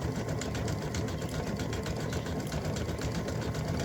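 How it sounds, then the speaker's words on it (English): Embroidery machine stitching red stripes on an in-the-hoop mug rug panel, a fast continuous mechanical chatter with a rapid even needle rhythm, close and steady throughout. "we're stitching the red stripes"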